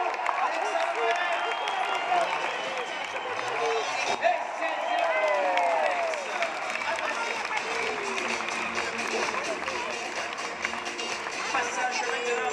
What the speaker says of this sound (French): Vous devez applaudir. Vous devez faire du bruit pour le retour.